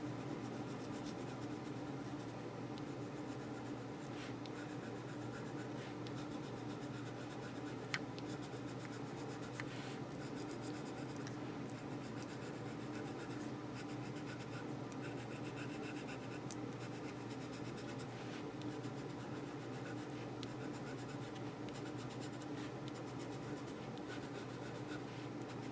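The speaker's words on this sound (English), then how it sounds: "But we can shade this so easily with our white charcoal pencil." White charcoal pencil shading across paper, a steady soft scratching rub that continues without pause, close and fairly quiet.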